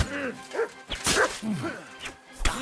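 A dog barks in Kingdom Come: Deliverance 2, a few short, loud woofs and yips close by, spread unevenly through the moment.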